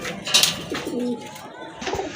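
Pigeons coo at a pigeon sale, a few soft throaty calls close by against a quiet background, with faint voices nearby.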